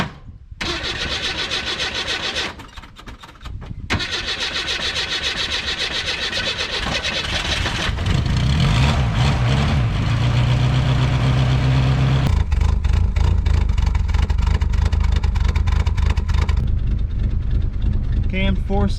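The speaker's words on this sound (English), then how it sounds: "Cammed 4-cylinder at what, 700 RPM? Now that's the good stuff right there, ain't it?" A cammed four-cylinder engine in an A904-automatic project car starts and settles into a lumpy idle around 700 RPM on a cold, snowy day, loud and close, with a voice talking early on.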